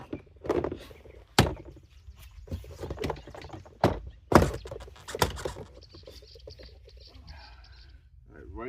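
Plastic trim cover on a 2005 Nissan Armada driver's door pops off with several sharp, close clicks and thunks amid handling noise, someone speaking intermittently.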